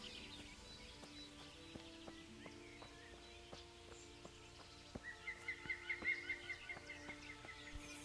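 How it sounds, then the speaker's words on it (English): Bird chirps and calls fill the outdoor ambience in the medieval video game Kingdom Come: Deliverance, with scattered tweets over a quiet background and rhythmic hoof clops growing louder toward the end. "I'm hearing all sorts of birds"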